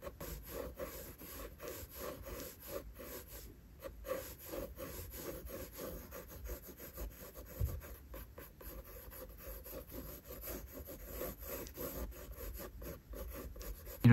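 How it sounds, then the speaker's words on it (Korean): Pencil sketching on paper with a continuous soft, close scratching and rubbing of quick light strokes, faint and steady with no voices. "이런 식으로 스케치를 합니다."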